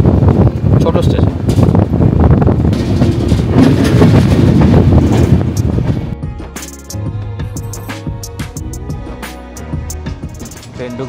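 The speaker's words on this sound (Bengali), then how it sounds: "ট্রেন ঢুকছে শামসি" The Kulik Express, train 13054, pulls into small Shamsi station in West Bengal, loud rumbling and clattering for several seconds before easing into quieter squeaks and knocks of the slowing carriages, with wind buffeting the microphone.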